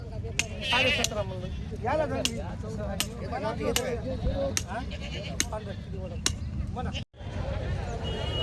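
Goats bleat repeatedly at a livestock market in Vasmat, some close and loud, amid a crowd's murmuring chatter and occasional sharp knocks; a brief dropout near the end.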